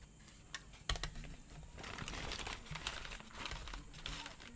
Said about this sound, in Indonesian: Lo nggak denger ya ada suara kertas ini ah?